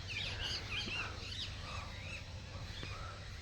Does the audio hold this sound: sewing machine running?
no